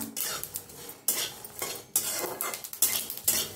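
A utensil scrapes and clinks against a pan while sesame seeds and whole spices are dry-roasted, in short, brisk stirring strokes with brief pauses, close and fairly quiet.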